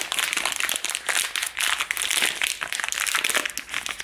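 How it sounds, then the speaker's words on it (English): A Cadbury Marble chocolate bar wrapper crinkles and crackles continuously as it is peeled open up close, with dense, irregular rustling throughout. "Let's unwrap it."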